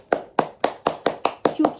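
Hands clap eight times in a steady, even rhythm, close and crisp, with a brief vocal sound near the end.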